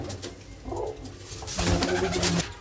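A domestic racing pigeon, a strong flyer kept by a Punjabi pigeon fancier, coos close by in a short run of soft, throaty murmurs with no one talking.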